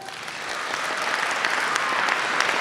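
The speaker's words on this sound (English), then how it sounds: "Let's clap it up." A school audience applauding at an assembly, dense steady clapping filling the room throughout, fairly loud and continuous with no talk over it.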